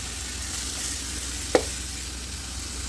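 Medium-sized chicken pieces for kabsa sizzle steadily in a pan, a close, even frying hiss broken once by a sharp clink of a utensil, with no voices.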